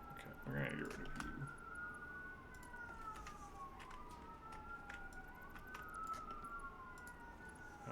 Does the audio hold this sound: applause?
no